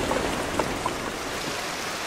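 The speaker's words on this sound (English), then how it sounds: "I waited for the rain to stop" Rain falling steadily on Tofua island, a dense even hiss with scattered soft drop patters, close and continuous, no voices.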